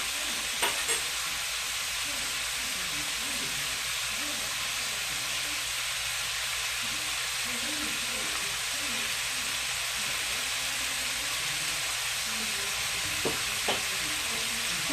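Sausage, cabbage, onions and peppers sizzle steadily in a pan, a loud, even frying hiss that runs unbroken throughout with only a couple of faint clicks near the start and end.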